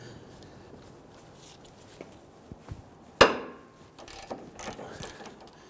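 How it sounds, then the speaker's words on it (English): A 17mm socket on a ratchet cracks loose a front sway bar link nut on a 2008-2013 Infiniti G37, one sharp metallic snap midway, surrounded by faint clicks and light ratcheting in a quiet garage. "We're gonna use our 17mm on our ratchet. Let's go ahead and break this free"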